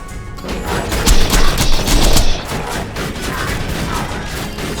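Borderlands 2 sentry gun firing in a dense, loud volley of rapid cracks and crashing impacts that peaks for about a second, then gives way to a noisy rumbling battle wash.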